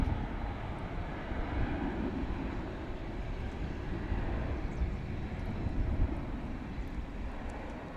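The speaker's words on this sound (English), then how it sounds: "Here goes the 767 off to the World Port in Louisville" A UPS Boeing 767 takes off at DFW International Airport, its engines giving a steady, broad roar that holds at a fairly constant loudness throughout with no voices over it.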